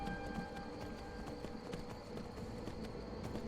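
In Skyrim, a horse walks back toward Whiterun stables with a steady, even clip-clop of hooves at a relaxed pace, faint and set against a low ambient bed with no voices.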